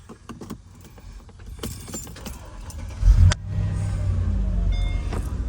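Keys to a 2005 Mercedes-Benz SL55 AMG jangle in quick metallic bursts, followed by a thud and the low rumble of the car's engine starting and idling.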